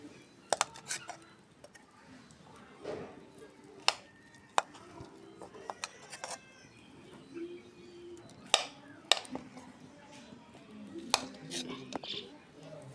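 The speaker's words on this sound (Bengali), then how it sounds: "এই জন্য একটু পিস পিস করে নিব" Large rohu fish roe is cut into pieces with a knife, giving sharp, close, irregular chopping knocks against a board, spaced out across the stretch with quiet gaps between them.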